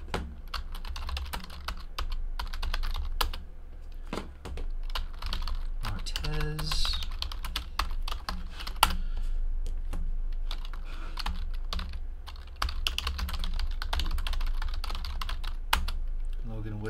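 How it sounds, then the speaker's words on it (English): Rapid typing on a computer keyboard, a steady run of close, crisp key clicks, with a brief pause and some faint background voice partway through. "Let me type in all of the hits."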